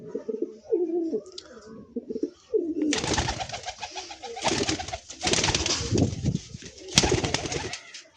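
Pigeons in a loft, including Andhra fulsira birds, cooing close by in low repeated throaty calls, followed by louder rustling and flapping bursts, with no voices.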